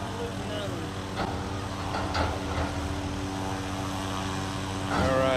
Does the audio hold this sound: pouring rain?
no